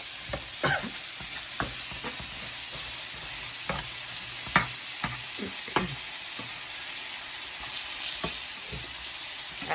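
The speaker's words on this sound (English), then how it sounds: "we're using pre-made, pre-pattied beef burgers" Pre-made beef burger patties fry in a pan, a steady close sizzle with scattered pops and scraping stirs on top, no talking.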